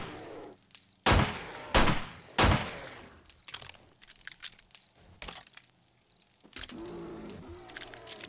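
Sharp gunshots in 7 Days to Die crack out in a quick series of loud bursts, followed by scattered smaller pops and clicks.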